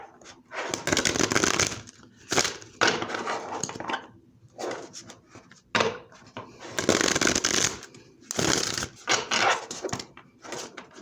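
Tarot cards shuffled by hand in bursts of riffling and sliding, several loud close-up rounds separated by short pauses, no voices.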